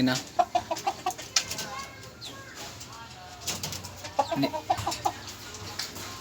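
Hens in a small backyard coop cluck in short, scattered bursts near and fairly quiet, with bird calls over a hushed background.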